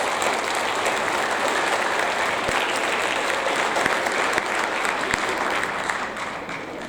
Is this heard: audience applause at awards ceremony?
yes